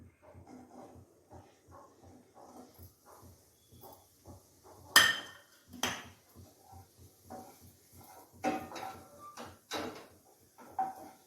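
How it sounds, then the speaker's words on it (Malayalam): Carrots sautéing in oil in a pan are stirred with steady, evenly spaced taps and scrapes, interrupted by a few louder clattering bursts, with no talking. "ക്യാരറ്റ് നന്നായി വേവുന്ന വരെ നമ്മൾ ഇതൊന്ന് ജസ്റ്റ് ഇളക്കി കൊടുക്കാം."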